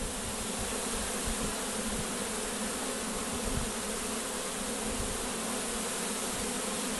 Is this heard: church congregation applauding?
no